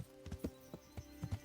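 Horse hooves clip-clop on the ground in the medieval game Kingdom Come Deliverance, a quick uneven run of soft, close thuds at a low level with no talking.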